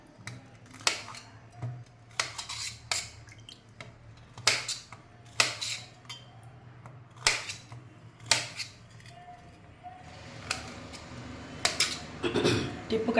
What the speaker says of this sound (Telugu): ఇప్పుడు దీనిలను టిప్పు కట్ చేసి అన్నీ టిప్ కట్ చేద్దాము.